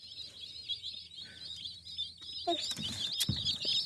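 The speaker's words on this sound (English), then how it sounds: "Just got our Cornish Cross meat birds from Cackle Hatchery out of Missouri." Cornish Cross meat chicks peep in a steady high chatter throughout, with a few brief rustles and knocks near the end.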